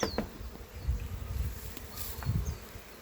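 Honeybees buzzing around an opened beehive during a hive remodel, a steady close hum with faint rustles and occasional soft knocks of comb being moved.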